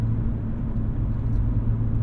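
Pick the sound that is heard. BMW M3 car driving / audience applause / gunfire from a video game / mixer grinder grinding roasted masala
BMW M3 car driving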